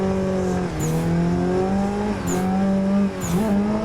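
A car in a racing video game drifts through corners, its clutch kicked to break traction: a steady, revving engine drone dips and climbs, and high tire squeals break out three times at roughly even intervals.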